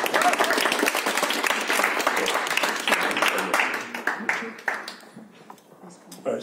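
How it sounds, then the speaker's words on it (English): An audience applauds to welcome a poet at a Disabled and Proud event, dense, loud clapping that fills the room before thinning out and fading over several seconds. "So please welcome Richard with a huge round of applause to share with us this evening"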